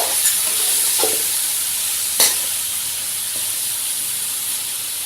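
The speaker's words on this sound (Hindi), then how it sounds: "हमें इसे भी फ्राई करना है अच्छे से इसी ऑयल में सब मसालों के साथ" Ginger garlic paste frying with spices in oil for chicken biryani, a steady hissing sizzle with a few brief scrapes and taps of stirring, close and even throughout.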